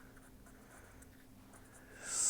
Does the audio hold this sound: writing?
yes